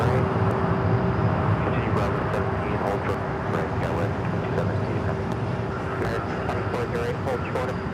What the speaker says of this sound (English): This is American Airlines 818 taking off to Dallas-Fort Worth on the